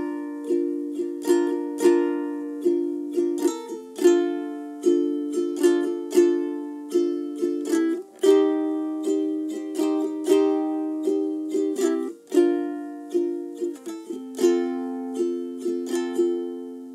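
Ukulele strumming the chord progression of a song, bright and close, with steady rhythmic strokes and regular chord changes repeating over a long stretch and no voice.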